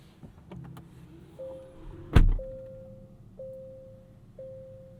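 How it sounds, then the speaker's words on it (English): The hood of a 2024 Genesis G90 slammed shut, one sharp heavy thunk near the middle, followed by quiet electronic chimes from the car's cabin. "we did not shut the hood, so let's redo that right now before we start the car"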